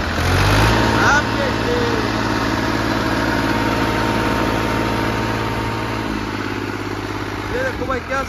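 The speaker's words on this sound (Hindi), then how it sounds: "ये देखो भाई क्या शानदार आवाज है भाई ट्रैक्टर की" A 13-year-old New Holland 3037 39 hp tractor engine is revved hard and held at a steady, loud, throbbing roar close by for around eight seconds, easing off slightly near the end.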